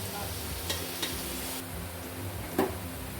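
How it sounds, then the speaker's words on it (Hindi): Chopped onions fry in hot oil with a quiet, steady sizzle, broken by a few faint clicks of stirring against the pan. "ऑयल हमारा गर्म हो चुका है, तो इसके अंदर हम ये जो हमारे पास कटी हुई प्याज है ये इसके अंदर हम डाल दें।"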